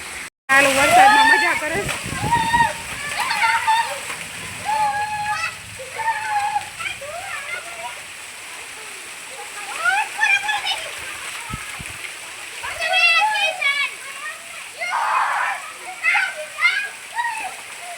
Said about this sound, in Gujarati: બધા વરસાદમાં નાય છે